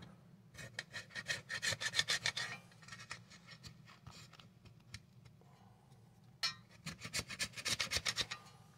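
A chisel scrapes old glue around the edge of a Boston Acoustics A-120 passive radiator cone, close rapid rasping strokes in bursts with quiet pauses between, no voices.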